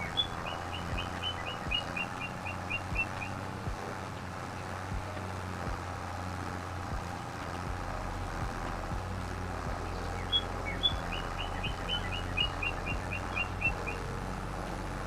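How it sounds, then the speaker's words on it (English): A bird in Farming Simulator 25 chirps repeatedly in a field, rapid bursts of high tweets at the start and again later, heard over a steady low drone of tractor engine and ambient game noise. "That bloody bird's loud in the middle of this field."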